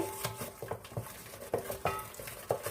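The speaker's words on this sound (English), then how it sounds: "We can go ahead and mix that up." Banana bread batter is stirred into dry ingredients in a bowl, giving soft, uneven scraping and tapping strokes in a quick, irregular rhythm at close range.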